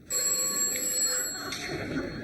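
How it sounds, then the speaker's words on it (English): An old-fashioned telephone bell rings indoors with a steady metallic trill, heard alone at moderate level for a couple of seconds. "Answer the phone, Anthony."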